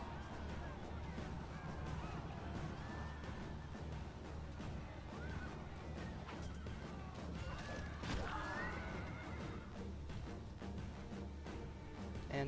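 Cavalry horses charge into a unit of archers in a Rome: Total War battle, a dense, continuous din of hooves, clashing impacts and distant crowd noise that stays loud and steady throughout.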